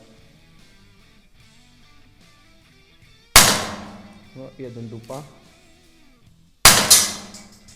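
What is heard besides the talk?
pistol shots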